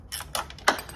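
A rusty 8mm nut on a 2013 Mercedes G63 rear light gives way under a wrench, heard as a few short, sharp metallic clicks and cracks close to the microphone in a quiet workshop.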